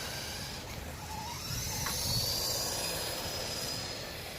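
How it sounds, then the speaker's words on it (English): An RBRC mecanum-wheel RC truck driven off-road at full throttle gives a steady, fairly loud whirring motor drone with gritty wheel noise that swells slightly midway, with no talking. "Okay, this is full throttle here."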